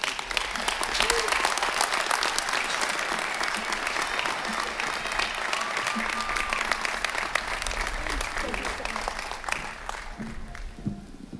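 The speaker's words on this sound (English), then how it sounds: "Please give him a round of applause." A commencement audience at the 2018 UNH ceremony breaks into sustained applause, a dense steady wash of clapping filling the hall from start to finish before easing slightly near the end.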